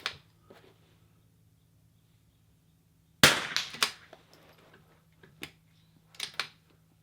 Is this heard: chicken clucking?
no